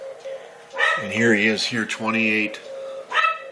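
A dog barks loudly and close indoors several times in quick succession on a holiday with people barbecuing outside, mixing with a voice as he talks.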